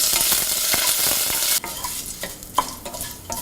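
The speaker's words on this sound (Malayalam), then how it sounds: "കടുക് പൊട്ടിയതിന് ശേഷം ലോ ഫ്ലെയിമിൽ വച്ച് എടുത്തു വച്ചിരിക്കുന്ന വറ്റൽമുളക്, കറിവേപ്പില എന്നിവയിട്ട് നന്നായി വഴറ്റി" Dried red chillies and curry leaves sautéing in oil over a low flame after mustard seeds have spluttered, a loud bright sizzle that suddenly drops to softer frying with scattered pops and stirring scrapes.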